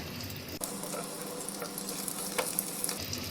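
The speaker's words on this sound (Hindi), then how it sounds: "अब इसमें ये सिंघाड़े डालेंगे और इन्हें शैलो फ्राई कर लेंगे।" Water chestnuts shallow-fry in melted ghee over low-medium heat, giving a continuous crackling sizzle broken by a few sharp clinks and scrapes as they are stirred in the pan.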